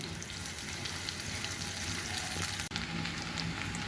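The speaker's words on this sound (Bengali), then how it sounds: "এখন আমি এগুলোকে একটু ভেজে নিচ্ছি।" Chopped onions frying in oil in a pan on a stove, a constant soft hiss and crackle with a brief gap near the end, fairly quiet, no talking.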